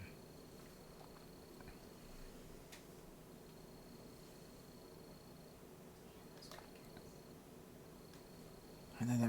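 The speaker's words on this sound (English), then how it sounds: "that's crickets" Crickets chirping outside at night, heard faintly from indoors through a closed door: a steady, thin high trill with a few brief sharper chirps over low background hiss, near the end interrupted by a sudden louder thump.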